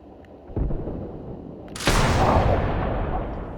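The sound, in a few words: vehicle-mounted gun firing in Arma video game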